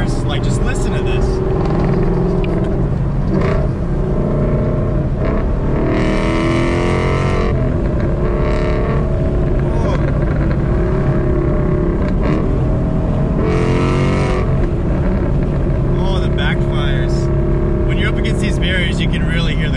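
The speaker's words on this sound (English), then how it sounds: "The thing I love about this car is this exhaust when you're up against these barriers." A loud Ford Mustang exhaust roars steadily at close range on a freeway, rising and falling with the engine, its sound reverberating off the concrete barriers throughout.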